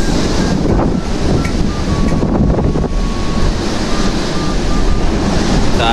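Loud roaring wind and crashing sea at the shore during a typhoon-strength storm, a continuous heavy rush of surf and microphone-battering gusts that holds steady throughout, with no talking.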